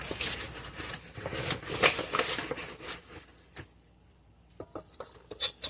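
Flour being worked into soft telera bread dough in a bowl: a close, busy run of scraping, tapping and clattering mixing noises, loud for the first few seconds, dropping to near quiet, then a few sharp knocks at the end.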